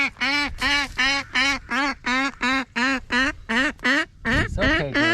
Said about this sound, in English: Mama duck still sitting on them eggs.